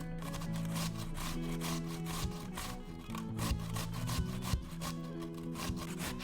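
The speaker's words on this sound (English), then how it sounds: "On the larger holes of your box grater, grate your potatoes directly onto your cutting board." Potatoes grated on the larger holes of a box grater straight onto a cutting board, a steady run of close, rhythmic rasping strokes with no talk.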